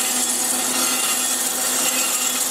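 A steady, loud abrasive hiss from grinding down rough weld spots on a Ford GPW crankshaft, a continuous close grinding roar with no breaks or talk.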